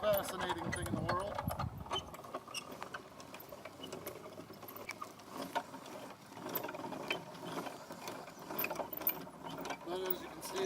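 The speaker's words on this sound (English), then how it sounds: "you wrap your log, come back around, and you crank it up." A hand-cranked winch ratchets at a sawmill station, pulling a log in a quick run of small, crisp clicks. The clicking is fairly faint and close, with a brief heavier mechanical rattle near the start.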